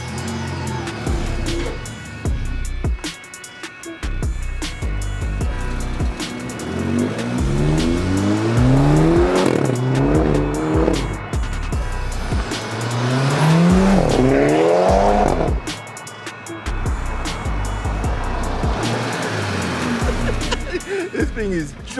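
A modified Volkswagen Golf GTI driven hard, its engine rising and falling through repeated revving sweeps with a steady loud drone, while people talk over it.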